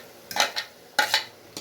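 A spoon clanks against a pot of carrot, radish and kohlrabi sambar as ground masala paste is added, a few sharp metallic knocks in two quick pairs, close and unaccompanied.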